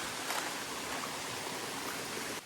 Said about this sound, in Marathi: व्हाळ.